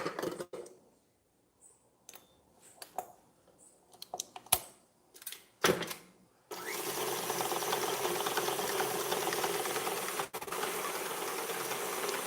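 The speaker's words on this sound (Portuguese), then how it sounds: "E aí eu vou bater na batedeira, tá?" Electric stand mixer beating alfajor dough in a home kitchen, starting as a steady continuous whir after several seconds of scattered clicks and knocks, running loud and unbroken to the end.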